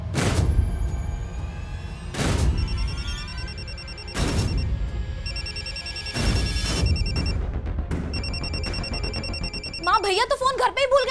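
A telephone rings in a tense domestic drama scene, several bursts of bright bell-like trills repeating through the scene, with loud impact hits and dramatic music underneath.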